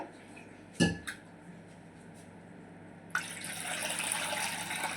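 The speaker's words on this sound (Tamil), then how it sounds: "நான் தண்ணி சேர்த்துக்கிறேன்." A couple of metallic clinks of a vessel, then water pours steadily into a pot of pani puri rasam for a few seconds, close and fairly quiet.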